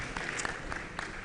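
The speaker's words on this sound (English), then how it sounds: "A round of applause for Professor WOLE. Soboyejo." A brief burst of audience applause at a university engineering public lecture, steady clapping from a crowd at moderate volume.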